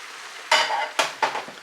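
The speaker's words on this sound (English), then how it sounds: "Now, stir that in," Diced canned tomatoes get stirred into macaroni in a pot, three quick wet scraping swishes with brief pauses between, close and fairly loud.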